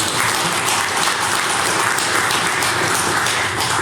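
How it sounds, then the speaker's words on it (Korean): A church congregation applauds during a Sunday worship service, sustained steady clapping from a roomful of people filling the whole stretch without a break, close and fairly loud, with no voices over it. "우리 힘차게 박수로 격려해 주시기 바랍니다"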